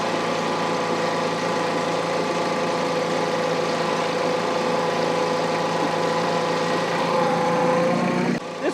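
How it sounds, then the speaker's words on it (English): A tractor engine runs steadily at low revs while working with an implement, a constant even hum that stays loud and close throughout before cutting off abruptly near the end. "This is such low stress on the tractor that I don't really have to race up the engine that much."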